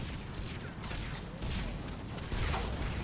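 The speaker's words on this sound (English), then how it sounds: "Where are these explosions coming from?" Battlefield explosions in the video game Mass Effect 3: a rolling series of heavy booms and rumbling blasts, overlapping and continuous, with louder bursts near the middle and end.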